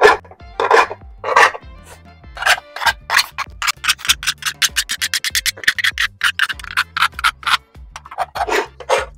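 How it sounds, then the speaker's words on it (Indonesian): A piece of metal for a homemade spark-plug TDC timing tool is filed by hand, giving loud, close rasping strokes that start slow and spaced, then quicken into a rapid steady rhythm, with no talk. "Jadi ini kita rapiin, kita ratain dengan sini nih, dikikir aja."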